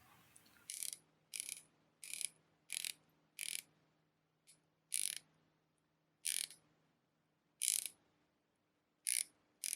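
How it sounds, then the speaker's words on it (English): A series of crisp, sharp ratchet clicks from a dive watch bezel, spaced irregularly, about a dozen in all, close up against near silence. "The bezel clicks are solid and consistent with almost no backplay. Here's what it sounds like."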